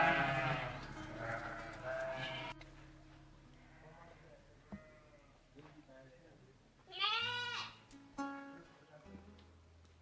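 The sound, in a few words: Sahelian sheep bleating on a farm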